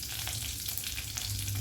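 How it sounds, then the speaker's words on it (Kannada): Roughly chopped onions and four Byadgi chillies frying in hot oil in a pan, a dense, steady sizzle and crackle with occasional stirring scrapes, close and loud with no talking. "ಇದನ್ನು ಚೂರು ನಾವು ಹಸಿ ವಾಸನೆ ಹೋಗೋವರೆಗೆ ಫ್ರೈ ಮಾಡುವ."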